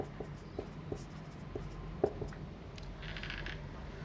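Marker or chalk writing on a classroom board during a Class 10 physics lesson, a run of soft scratchy strokes and taps with one sharper tap midway, steady and close under a constant low room hum.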